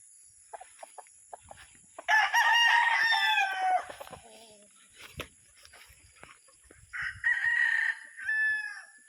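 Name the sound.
chickens and roosters crowing on a small poultry farm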